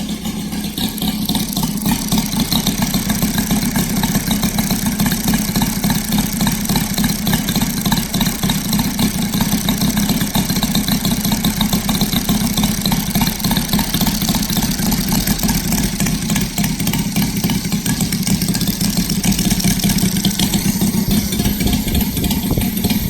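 A Saito FG-60 R3 model aircraft four-stroke engine idles steadily and evenly, a continuous buzzing putter with a fast regular beat, close and loud throughout.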